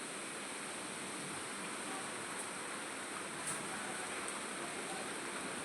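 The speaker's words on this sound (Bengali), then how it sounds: "আর অসময়ে এখন বৃষ্টি" Rain falling outside as an even, broad hiss that holds steady and faint from start to finish, with no other distinct sounds and no voices.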